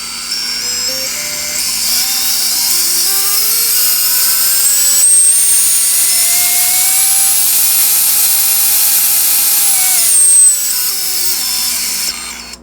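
Motor 4 of a Karearea Toa spinning up during a test, a loud, steady high-pitched electric whine that rises, holds for several seconds, then cuts off near the end, with no talking.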